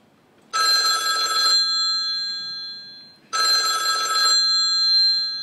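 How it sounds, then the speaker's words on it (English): HTC phone ringtone, two loud electronic ringing bursts about a second long each, separated by a pause, close and clear over a quiet room. "as soon as you pick up your phone, the ringer is diminished in volume"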